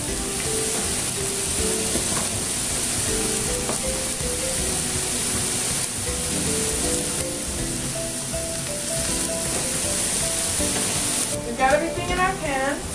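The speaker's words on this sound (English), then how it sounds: "these have to cook, stirring frequently until they are all nice and browned" Mushrooms fry in butter in a pan, giving a steady soft sizzle with occasional stirring scrapes, while background music plays underneath.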